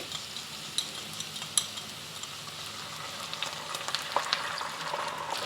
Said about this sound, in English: Just give it a stir, make sure that cornstarch at the bottom is fully dissolved back into the gravy.